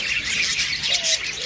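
Lovebird chicks at a bird farm squawk and chirp in a dense, shrill chorus, close and fairly loud, with continuous overlapping calls throughout and no talking.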